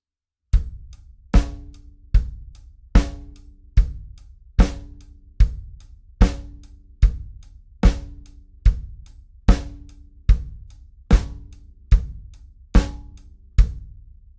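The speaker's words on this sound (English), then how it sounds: "So it's pretty much your very stereotypical rock groove." A steady rock drum beat with a bass drum thump on every beat and crisp hi-hat and snare hits, played alone at an even tempo.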